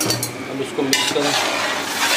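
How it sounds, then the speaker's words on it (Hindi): Semolina halwa stirred in a metal pot, close scraping and clinking of a utensil against the pot with a faint sizzle, irregular strokes over a couple of seconds. "अब इसको मिक्स करें।"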